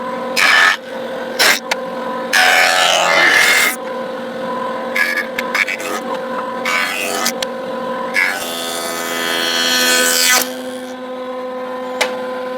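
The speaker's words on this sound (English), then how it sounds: "So let's run it through the joiner and see if I mess it up." Wood boards are fed through a jointer to flatten them, with loud rough cutting passes that stop and start over a steady motor hum, close by and with no talking.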